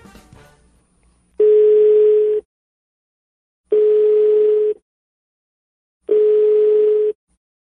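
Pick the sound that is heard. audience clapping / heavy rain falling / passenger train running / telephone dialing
telephone dialing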